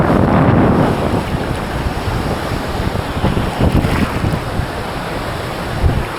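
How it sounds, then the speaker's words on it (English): Big wind-driven waves roll and crash on the warm lake at Ometepe, Nicaragua: a steady loud wash of surf with heavy wind buffeting the microphone throughout, and a few stronger surges. "It's almost bigger waves than in the ocean."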